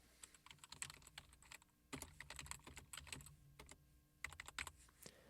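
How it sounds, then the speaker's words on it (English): Computer keyboard typing, rapid irregular clusters of close, crisp key clicks with short pauses between bursts, no voices. "Let's type in "search this site.""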